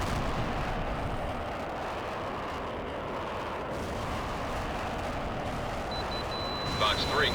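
Missile explosions in the combat flight game Tom Clancy's HAWX make a dense, continuous booming rumble that stays loud and steady throughout, with a brief sharper burst near the end.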